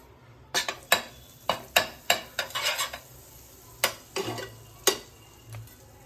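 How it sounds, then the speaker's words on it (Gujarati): Butter and methi masala cooking on a tava for Mumbai-style vada pav, a faint sizzle under a series of sharp, close metal spatula taps and scrapes against the pan, irregular and spaced. "આપણે અહીંયા તવી મૂકી દીધી છે અને આપણે થોડુંક આપણે અંદર બટર એડ કરી દઈશું"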